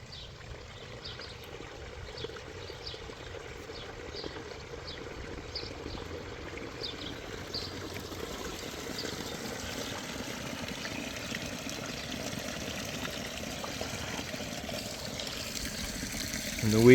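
Water trickles and splashes steadily over a garden waterfall stone at a backyard pond, a soft continuous flow with light patters, fairly close and unaccompanied by voices.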